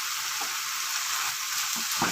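Mutton frying in a pan after fry masala is added, giving a steady, close hiss of sizzling oil with faint stirring touches.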